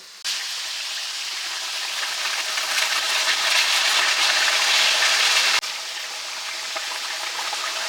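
Large fish sizzling steadily in hot oil while being fried for fish pickle, a dense continuous hiss that starts abruptly, holds at an even loudness and dips briefly near the end.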